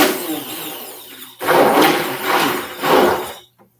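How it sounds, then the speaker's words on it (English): A blender whirs through a batch of blue soap colorant in three loud, close bursts, each swelling and easing off before the motor cuts out at the end, with no talk. "I'm going to use my blender and blend that up just real quick"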